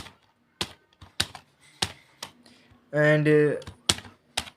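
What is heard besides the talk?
typing on a computer keyboard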